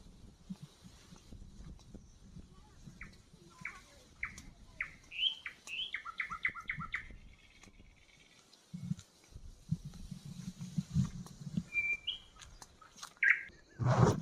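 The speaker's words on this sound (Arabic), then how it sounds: "سامعين صوت طيور؟" Small birds chirp in short bursts of bright tweets in the Matrouh desert near quail-hunting nets on the Egyptian coast, fairly faint and intermittent over low outdoor rumble and wind.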